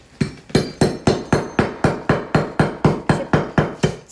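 A hammer strikes an old-fashioned sugar loaf to crack it, about fourteen loud, close, evenly spaced blows in a steady rhythm, each a sharp thud with a brief ringing tail.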